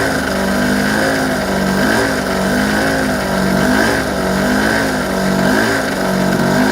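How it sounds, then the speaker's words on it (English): An old 850-watt petrol generator runs on old fuel while powering a 500-watt light, holding a loud, steady droning engine note with a slight rhythmic wobble from start to finish. "So, supposedly they're an 850 watt generator."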